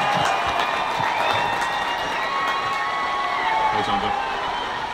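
A crowd applauds and cheers for Olympic silver medalist boxer John Joe Nevin in Mullingar, a dense burst of clapping and whoops with some voices mixed in, steady throughout.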